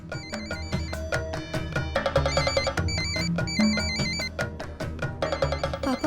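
A phone call rings out while someone waits for an answer, though the tones sit inside a dense musical TV-drama score with repeating chime-like notes and percussive hits.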